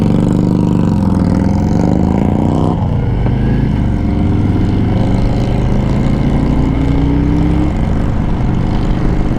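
Harley-Davidson Road Glide on a test ride, its engine and exhaust droning loud and steady with rising and falling engine pitch as it shifts, mixed with heavy wind rush throughout.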